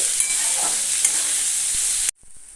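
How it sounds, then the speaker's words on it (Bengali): Chopped onion sizzles steadily in hot oil in a pan, a loud, close, continuous crackling hiss that cuts off abruptly near the end. "তেলটা গরম হয়ে যাওয়ার পরে আমি দিয়ে দিয়ে দিচ্ছি কুচিয়ে রাখা পেঁয়াজ"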